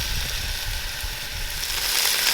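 Fiddleheads, boiled beforehand, sauté in a hot pan with a steady, close sizzle and frying crackle that grows slightly louder toward the end, with no talking.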